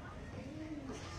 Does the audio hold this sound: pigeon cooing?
yes